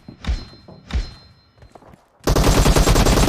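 Gunfire in the mobile shooter PUBG Mobile during a deathmatch: two heavy single thumping shots, then quieter clatter, then a loud dense burst of rapid automatic fire that continues to the end.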